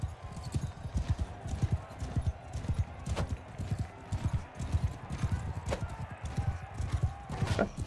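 Horse hooves in the Mount & Blade: Bannerlord video game beat in a fast, rhythmic clip-clop gallop that runs steadily throughout, with someone talking at times over the hoofbeats.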